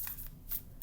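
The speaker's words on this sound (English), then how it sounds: "I'm going to shake it up a little bit more and see if any other cards come from this deck for you." Tarot cards shuffled by hand, giving a few quick, soft riffling bursts of papery flutter in a short, quiet stretch with no talk.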